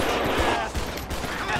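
A rapid burst of gunfire from Grand Theft Auto V, sharp repeated cracks packed densely over a dense, noisy game background.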